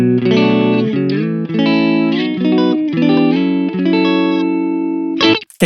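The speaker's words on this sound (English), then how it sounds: "this is way too much reverb" An electric guitar played through a Two Notes Genome amp simulator with the reverb set far too high rings out in loud sustained chords whose tails wash and smear together, ending in an abrupt cutoff and a brief burst.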